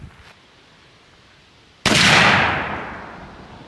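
A choked muzzleloading shotgun loaded with 90 grains of powder and number 6 shot fires once after a quiet pause, producing a sudden loud boom that decays into a long rolling echo.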